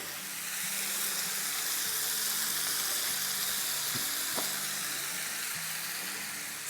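Chicken sizzles steadily in a hot pan as yogurt goes in, a continuous broadband fry hiss with a couple of faint utensil clinks near the end, with no talking.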